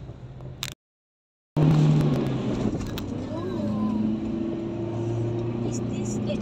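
A car drives along a town road in Aceh at around 70 km/h, its steady engine and road rumble running continuously after a brief silent break, with people chatting over it inside the cabin.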